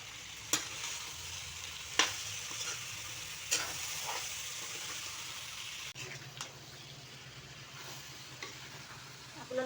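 Sweet jujube (bogori) pickle being stirred in a pan over a low gas flame, with a steady soft sizzle and a few sharp scrapes of the spoon against the pan, all close and without any talk.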